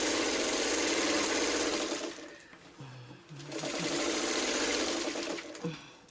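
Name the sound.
sewing machine sewing a quarter-inch fabric seam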